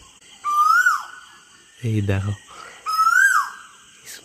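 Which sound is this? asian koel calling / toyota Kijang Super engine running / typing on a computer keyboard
asian koel calling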